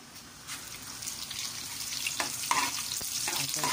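Chopped onion fries in a pan while pancit canton is being cooked, a close, steady hiss and sizzle that grows slightly louder, with a few scraping stirs and clinks on top.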